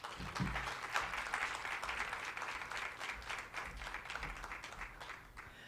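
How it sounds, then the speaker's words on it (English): Sustained audience applause at a 16 Days of Activism against gender-based violence event, dense steady clapping from a crowd that carries on evenly for several seconds without talk. "Let's clap for him once again."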